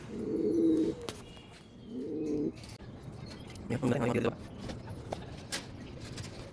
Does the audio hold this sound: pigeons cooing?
yes